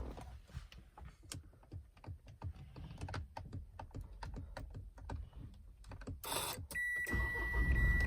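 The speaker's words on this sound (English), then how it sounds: "Get inside the vehicle now, start the engine." A 2016 Mitsubishi L200 Barbarian pickup idles with a quick run of clicks and ticks, then the engine cranks and starts near the end, settling into a steady rumble.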